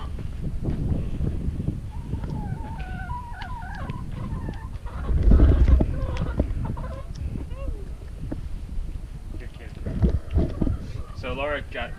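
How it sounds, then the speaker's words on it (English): Backyard pet chooks cluck and squawk near a grandmother and child during feeding, with higher calls mixed in and speech-like chatter around them. "For some reason I come out with the chicken."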